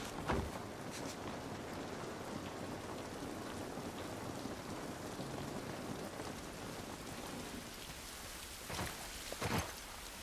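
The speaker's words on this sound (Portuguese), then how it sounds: "Essa chuva não vai nos ajudar" Steady rain pours throughout a scene in the video game The Last of Us Part 1 Remastered, a dense continuous hiss with a few sharper splashes or thuds near the start and end, and no talking.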